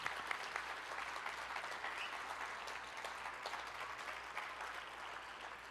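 Sustained audience applause at a Millennium Stage folk concert at the Kennedy Center, a dense, steady wash of clapping from a crowd that holds evenly for several seconds with no talk over it.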